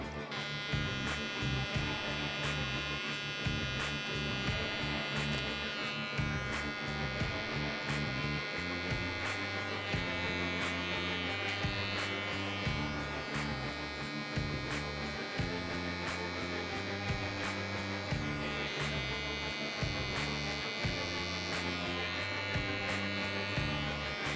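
Electric hair clippers buzzing steadily throughout a French crop haircut, a continuous close motor hum with shifting tone as the blades move through the hair, with no talking.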